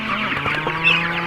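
Meat chickens on a farm cluck and chatter in a close, steady flock, with overlapping short calls and one brighter squawk near the end; no voices.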